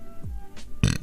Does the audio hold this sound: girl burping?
yes